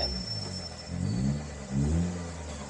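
A car engine runs with a low, steady rumble that swells in two revving surges, the car being manoeuvred during parallel parking.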